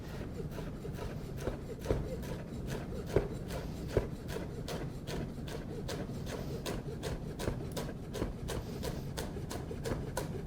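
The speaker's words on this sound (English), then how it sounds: "we're going to do a chiffonade of the mint" A knife slices mint into chiffonade on a cutting board, making quick, steady rhythmic strokes, close and fairly quiet, with a few sharper knocks on the board.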